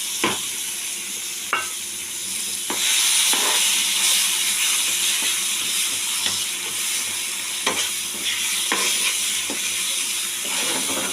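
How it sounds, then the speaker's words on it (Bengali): Ground flat bean paste fries in oil for a bean bharta, a steady hissing sizzle punctuated by regular scraping strokes of a spatula, close and clear with no talking. "এবার এই বাটা শিমটা এবার আমি এর মধ্যে তেলের মধ্যে দিয়ে দিচ্ছি"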